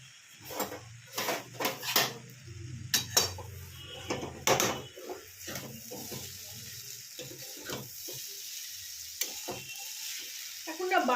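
A spatula stirring and tossing chowmein in a sizzling pan, with repeated scraping knocks in uneven bursts over a soft background hiss and no talking.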